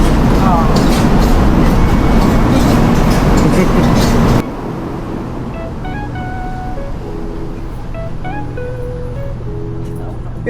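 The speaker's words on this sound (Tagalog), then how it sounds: "Bullet train!" Bullet train in Taiwan, a loud dense rushing roar for the first few seconds that cuts off abruptly to a quieter cabin hum with chiming tones, people talking throughout.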